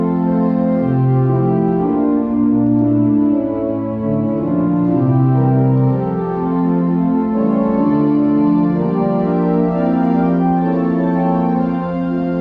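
Pipe organ with all its 8-foot stops drawn together except the first open diapason, a loud, rich, blended chord texture of sustained notes shifting through a slow harmonic progression, with no speech.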